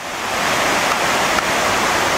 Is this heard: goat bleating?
no